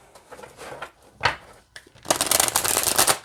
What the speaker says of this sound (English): so let's see how it shuffles.